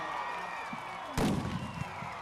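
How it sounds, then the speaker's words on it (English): A single loud, sharp cannon boom lands in the middle of the clip, followed by a brief rumbling decay over steady crowd noise at a high school football game. "Fire those cannons, Lumberton fans."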